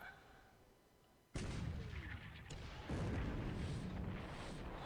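In a naval war video game set in February 1942, pitting Japan against the Allies, a torpedo strikes with a sudden loud booming blast. A second heavy rumbling explosion follows, and the noise holds thick and sustained.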